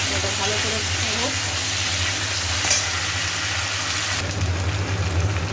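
Vegetable pieces fry in hot oil with tomato and ginger paste, giving a steady, close, dense sizzle and crackle that holds throughout, with faint stirring and a low background hum.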